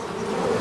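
Honey bees hum from an opened hive, a close, continuous buzzing drone that holds steady through a short moment.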